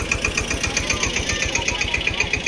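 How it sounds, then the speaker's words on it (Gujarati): A tractor engine runs close by while hauling food to serving counters at a large religious gathering, with an even, rapid diesel knock pulsing under a steady mechanical whine. "તમે જોઈ શકો છો આવી રીતે ટ્રેક્ટર દ્વારા જ બધું પહોંચાડવામાં આવશે કાઉન્ટર તરફ"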